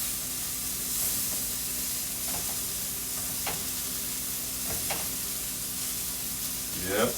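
Chicken tenders fry in a pan on full heat with a loud, continuous sizzle and crackle up close. There are occasional sharper pops and faint background noise.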